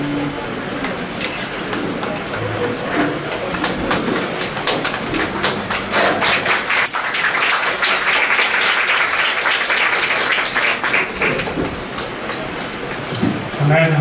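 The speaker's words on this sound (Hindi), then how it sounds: "क्यों ना हम लोग परमेश्वर के लिए और भी एक बार जोर से हम लोग हाथ ताली बजाएंगे" Church congregation clapping hands together in a dense, steady rhythm, loud and close, with voices mixed in.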